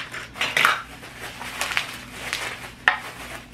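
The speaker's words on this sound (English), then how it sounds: "My blades, my chopping blades," Plastic and metal chopping blades of a Fullstar veggie chopper being handled during an unboxing, making a few light clinks and clatters spread over a few seconds.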